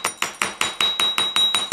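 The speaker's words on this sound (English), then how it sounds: "take your rawhide mallet, rawhide, not metal, because metal will flatten it. And we're just going to go in and roll it and hammer out" A rawhide mallet hammers a length of jewellery wire straight, nine sharp, evenly spaced strikes landing in a steady rhythm about a fifth of a second apart, close and distinct with no talking.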